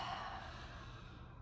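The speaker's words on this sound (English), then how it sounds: "Wide open mouth, exhale" A breathy open-mouthed exhale during Pilates breathing, one steady soft rush of air lasting just over a second, close and quiet with no talking.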